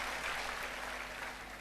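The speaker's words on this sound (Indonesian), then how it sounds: "yang ini boleh tepuk tangan buat Tuhan Yesus" A church congregation claps together in sustained, dense applause, a steady wash of many hands close by that fades slightly toward the end.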